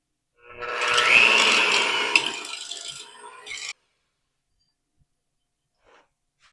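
Butter and sugar for brownies are mixed, making a loud whirring mechanical mixing sound for about three seconds that then cuts off into silence.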